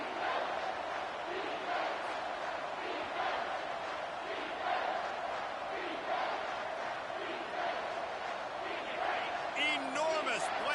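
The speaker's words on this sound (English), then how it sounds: "this crowd is bringing down the house" A stadium crowd roars in the college football game NCAA 25, a dense, sustained wall of cheering noise heard throughout, with a commentator talking over it.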